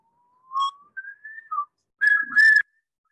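Common loon calling alone: a long, wavering whistled wail in several rising and falling notes, followed by a louder, quavering yodel-like phrase, clear and fairly close against silence.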